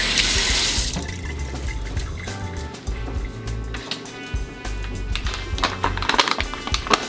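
Running tap water splashes steadily over hands being washed at a kitchen sink while making beef stroganoff, a loud continuous gush with shifting splashes throughout.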